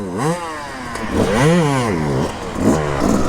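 A two-stroke hard enduro motorcycle revs loud and close, its engine pitch sweeping up and down in repeated throttle blips with a raspy, buzzing tone and no talk over it.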